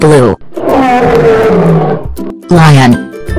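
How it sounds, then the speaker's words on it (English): A lion roars loudly in a long, rumbling burst near the start, close and full, with brief voice sounds before and after it. "Lion."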